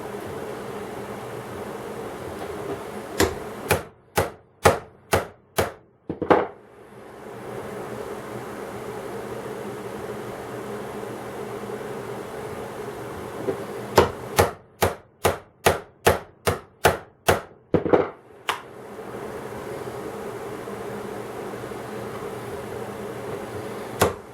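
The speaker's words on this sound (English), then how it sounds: "Try it with a chisel first." A chisel cutting Kydex for a target rifle cheek riser: two bursts of rapid, evenly spaced sharp clicks or taps, five or six in the first and about ten in the second, over a steady background hum.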